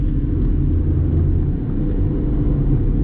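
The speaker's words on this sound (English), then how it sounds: "Fourth gear, accelerate." A Hyundai Accent with an acceleration problem revs in fourth gear, producing a steady, heavy low engine drone and rumble that holds evenly without rising, with no talking.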